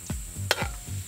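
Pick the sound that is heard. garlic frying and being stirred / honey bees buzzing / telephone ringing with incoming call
garlic frying and being stirred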